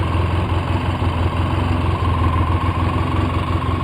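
A 2004 Polaris Sportsman 700 ATV engine idles roughly and steadily nearby, a continuous uneven low rumble with no talking over it.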